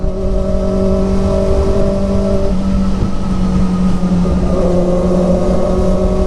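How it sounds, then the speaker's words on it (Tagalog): Inline-four motorcycle engine revving inside a tunnel on a highway ride, a loud steady drone with sustained tonal harmonics that shift pitch midway as the revs change, heard alone without talk. "Ang ganda talaga ng tunog ng inline 4 pag pumapasok sa tunnel"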